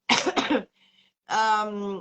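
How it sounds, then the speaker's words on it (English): Two sharp coughs close to the listener, followed by a short pause and then a longer strained, throaty cough or clearing sound. "You see, I'm still coughing."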